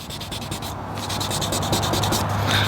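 Hand sanding a scratch in car paint with 2000 grit sandpaper, a close, steady rhythmic rubbing of quick back-and-forth strokes, continuous with a brief lighter gap, no talk.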